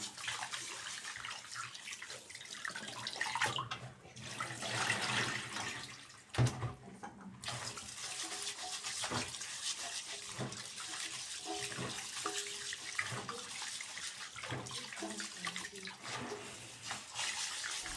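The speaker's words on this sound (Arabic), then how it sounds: "هنا بقى انا بغسله اهوت حلو وبشاهده كذا مره كده عشان يبقى زي الفل" Tap water runs steadily while rice is rinsed in a pot or bowl, with splashing and swishing that rises and falls, a brief pause and louder sloshing midway.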